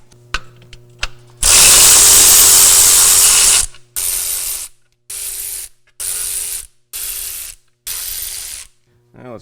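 An air ratchet loosening bolts on a Berkeley 12JG pump: one long loud rattling burst followed by five shorter, evenly spaced bursts with brief silences between them.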